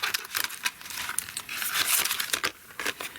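Close crinkling and rustling of paper pieces being cut out and handled for card making, with irregular crisp bursts and no talking.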